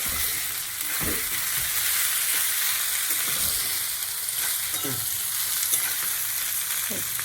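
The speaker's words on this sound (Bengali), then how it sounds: "এটা দিয়ে একটু ভেজে নেবো ভালো করে" Food sizzles and crackles steadily in a hot pan, with occasional soft scrapes of stirring cutting through the constant frying hiss.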